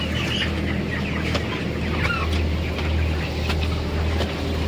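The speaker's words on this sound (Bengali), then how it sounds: "পাখির হালকা খিচখাচ আওয়াজটা কাটছেনি" Broiler chickens about 25 days old in a farm shed give a steady low chorus of clucking and faint wheezy chirps, with a constant hum underneath throughout.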